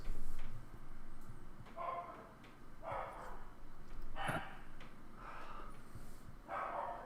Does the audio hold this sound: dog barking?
yes